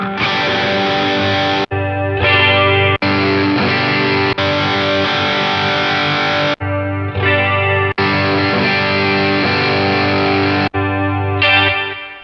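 An electric guitar plays through a NUX Trident multi-effects pedal with distortion and chorus, sustained chords cutting off sharply at each preset switch, leaving brief silent gaps between tones.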